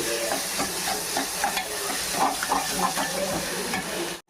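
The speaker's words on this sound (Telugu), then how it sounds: "అల్లం వెల్లుల్లి పేస్ట్ వేద్దామండి. తిప్పుకున్నాం." Ginger garlic paste and onion pieces fry in hot oil for a chicken fry piece biryani, a continuous close sizzle broken by rhythmic scraping as a spoon stirs the pan.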